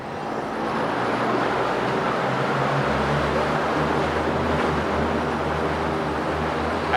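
A 2022 Suzuki 30hp outboard, 20-inch long shaft tiller model with electric start, runs in gear inside a test tank, giving a steady loud low engine drone with churning water rumble and no pauses.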